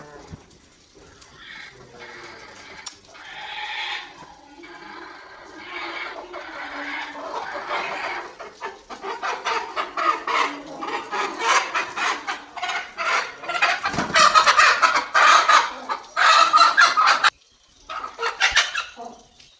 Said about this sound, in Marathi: खुडकोंबडी ही आपली खुडकोंबडी आहे